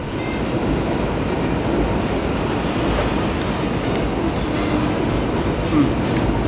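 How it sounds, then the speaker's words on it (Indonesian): A loud, close train rumbles by continuously overhead a roadside eatery under the railway, with a dense roar and faint rhythmic clatter throughout and no clear talking. "sensasi kalau makan ada kereta lewat"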